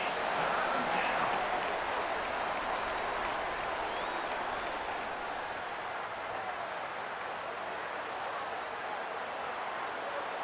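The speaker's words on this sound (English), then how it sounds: "And the crowd coming to life here, trying to help this defense down in the red zone." A stadium crowd in a college football video game, with USC and Michigan State in a 1987 matchup, roars as a continuous wash of loud cheering and applause with no breaks.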